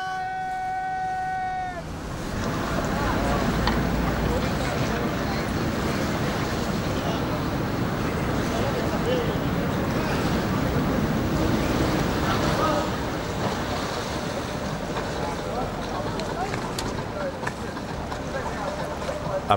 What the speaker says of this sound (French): cette machine va naviguer uniquement avec l'énergie du vent